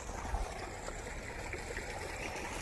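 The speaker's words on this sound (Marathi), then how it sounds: "हा वाफा भरलेला आहे त्याच्यावरचं पाणी मी आता बंद करत आहे" Irrigation water flowing steadily into a fodder field bed, trickling and gurgling continuously like a stream filling a shallow channel, close and moderately loud with no talking.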